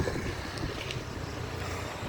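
Steady wind rushing and buffeting against the microphone, a continuous broadband roar with no voices.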